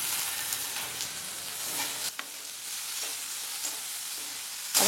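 Chopped tomato sizzles in a pan of frying onion for dal fry, a steady crackling hiss with a few sharp spatters and a stir near the end.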